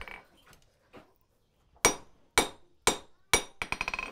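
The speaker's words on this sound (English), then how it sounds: "I tuck my elbow in so that the hammer is kind of swinging from a fulcrum" Sharp hammer blows forging hot metal into a drawer pull: a few spaced strikes, then a quicker run of lighter ringing taps, close and loud with quiet gaps between.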